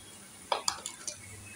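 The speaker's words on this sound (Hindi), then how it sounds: "अब मैं इसको अच्छे से मिला दूंगी ताकि उस गोश्त के हर एक बूटी में अच्छे से मसाला चला जाए" A spoon stirs spices into meat in a pot for Kolkata-style biryani. It gives a few quiet, separate clinks against the metal pot, spaced irregularly.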